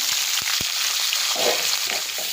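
Chopped onions hiss in hot oil with bay leaf, cumin and tomato in a home kitchen pan, a dense, loud, steady sizzle with a few soft knocks at the start.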